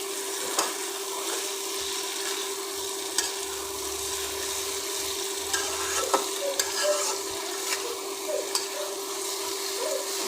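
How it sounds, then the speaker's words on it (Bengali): Sweet pumpkin, already boiled, is stir-fried with spices in a pan: a steady soft sizzle with repeated scraping strokes of a stirring spoon, close and continuous, with no voices. "মিষ্টি কুমড়ো আর মশলাটা খুব ভালোভাবে নেড়ে চেড়ে কষিয়ে নিচ্ছি"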